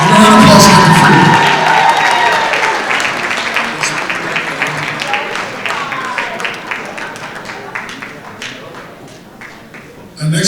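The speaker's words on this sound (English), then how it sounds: "Give a round of applause for Dr. Freeman." A gala audience applauds loudly for an honoree. The dense clapping starts strong and slowly thins and fades over about ten seconds, with some crowd noise and voices underneath.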